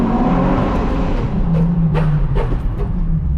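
A Nissan 350Z with a muffler-delete exhaust, its engine note a loud, steady, throaty drone heard close up, with small swells in pitch but no sharp revs.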